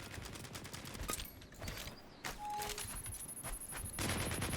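Rapid assault rifle bursts and heavier shotgun blasts fired at training dummies in the game LEAP, irregular clusters of sharp shots in quick succession, fairly quiet overall.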